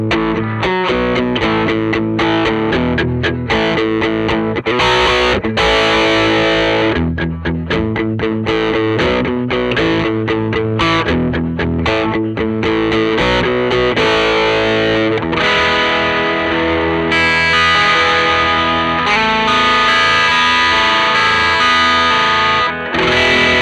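Distorted electric guitar played through an amplifier speaker and recorded with a microphone at a fixed distance, a loud, continuous, dense stream of chords and riffs with no talk.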